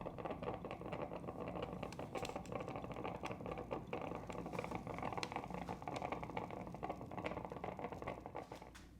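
A Cuisinart coffee maker crackles and splatters close by while brewing, an irregular stream of quick pops and sputters over a low hum.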